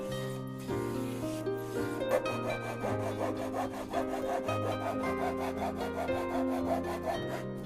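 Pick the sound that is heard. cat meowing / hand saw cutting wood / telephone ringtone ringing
hand saw cutting wood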